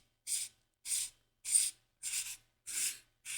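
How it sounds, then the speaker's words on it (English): A metal pommel is twisted onto a Neopixel lightsaber hilt with a Proffie board, making six evenly spaced scraping rasps, each about a quarter second long, close and distinct with silence between them. "Come over here and take your pommel. Screw it on."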